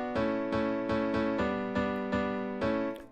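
Piano as the main instrument in a mix, sounding a series of about eight evenly spaced chords with ringing sustain, moderately loud and alone without voices.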